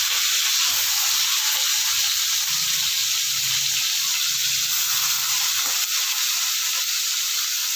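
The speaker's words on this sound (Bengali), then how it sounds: "এইটা দিয়ে আমি আগে চিংড়ি মাছটা ভেজে নেব।" Prawns fry in hot oil with a loud, continuous hiss and crackle that holds steady throughout, close up and with no talk.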